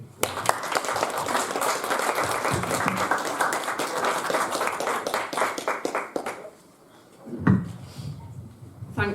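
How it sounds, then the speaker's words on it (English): Audience applause for motivational speaker Carl Foster, a loud burst of rapid clapping that fades out after about six seconds, followed by a brief thump and quieter room noise. "can we have another round of applause for Carl, please?"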